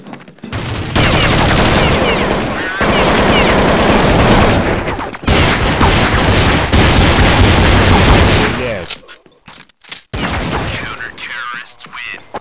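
Rapid bursts of automatic gunfire and shots from the video game Counter-Strike 1.6, loud and dense for most of the stretch, with brief pauses and a quieter scattered patch near the end; a voice speaks over the shooting.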